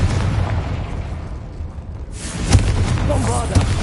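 Confringo spell blasts in a Hogwarts video game, a dense crackling burst erupting at about two seconds after a rumbling lead-in, followed by further sharp pops and booms amid loud game effects, with a voice calling out spells.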